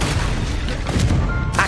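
The Incendio fire spell goes off in Hogwarts Legacy, a short, dense burst of crackling, booming flame.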